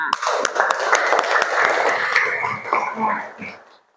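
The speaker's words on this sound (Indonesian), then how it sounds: "kita beri tepuk tangan untuk semua siswa yang sudah mempresentasikan hasil kelompoknya" A short burst of clapping from a class of students, brisk and fairly close, fading out after a few seconds.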